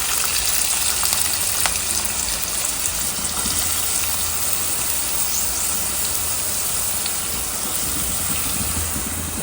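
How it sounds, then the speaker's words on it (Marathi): Chopped onion frying in hot oil with curry leaves, a steady, dense sizzle running close and even throughout, with a faint occasional stir, no voices. "तो जरा कांदा परतून घेतो."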